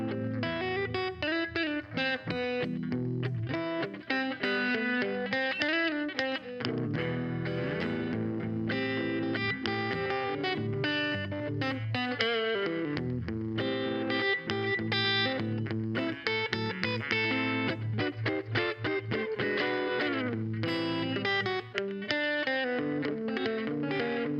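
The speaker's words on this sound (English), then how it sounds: "It's more of a warmer, kind of more of a lush sound, kind of a jazzy tone." Electric guitar played continuously through a Telecaster with a warm, lush, jazzy tone, a steady run of chords and single-note lines with no talking.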